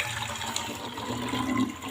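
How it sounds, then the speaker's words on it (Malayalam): Water pours steadily into a container holding rock salt and rice, a continuous splashing rush with no voices. "കുറച്ച് വെള്ളം ഒഴിക്കുകയാണ് കേട്ടോ"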